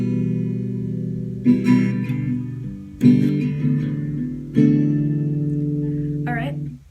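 Guitar strums a few chords from a song in an easy tutorial arrangement. Three main strums ring out close by and decay, and a short bright squeak comes at the end.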